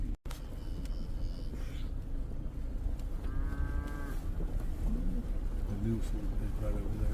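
A cow close to calving on a cattle farm lets out a drawn-out moo, then lower grunting calls, over outdoor ambience with birds and a person talking nearby.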